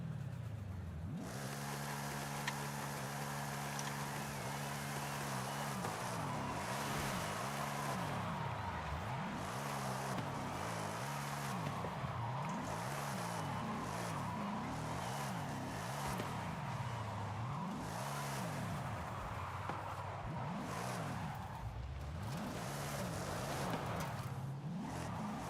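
Car drifting in Forza Horizon 5, with an engine revving up and down in repeated swoops while tyres squeal and skid, loud and continuous throughout.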